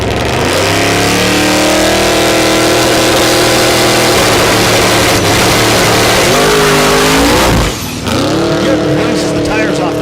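A drag race car makes a pass at Thunder Valley in Noble, Oklahoma, during Race Week 2.0 in 2021. Its engine roars loud and close with a steady, sustained drone, dips briefly near the end, then surges and revs again.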